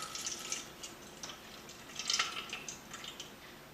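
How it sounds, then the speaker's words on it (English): Juice from grated potato is poured off into a bowl, a faint, quiet trickle with soft splashes and scattered drips, nothing else audible. "now I pour the juice from potato out"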